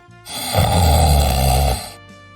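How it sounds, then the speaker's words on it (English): A single long, loud rasping snore swells up, rumbles for over a second with a buzzing low growl, then cuts off abruptly, heard up close. "a retired master sergeant snoring"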